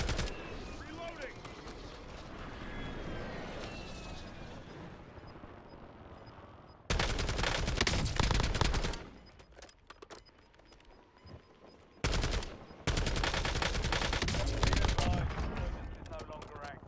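Video game gunfire in a solo-versus-squads shooter match, heavy sustained automatic bursts in two loud stretches, separated by quieter moments with game voice callouts.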